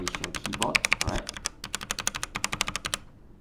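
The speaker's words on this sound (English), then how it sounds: "this is the iMice keyboard. It's just a normal keyboard, alright? This is how it sounds like." Typing on an iMice budget keyboard, a rapid series of sharp, close clicking keystrokes in an uneven rhythm, loud and dry, with a brief pause in the middle before the fast taps resume.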